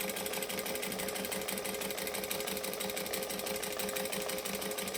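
A sewing machine runs steadily for the whole stretch, stitching a straight line forward and then back to lock the stitches, with an even, continuous mechanical whir and no talking.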